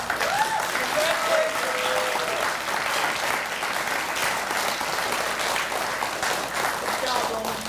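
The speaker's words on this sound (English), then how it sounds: "Let's offer a round of applause to" Audience applause fills a monthly astronomy club meeting of the RASC Ottawa Centre, a steady, dense wash of clapping lasting the whole stretch at even loudness, with a few voices faintly audible beneath it.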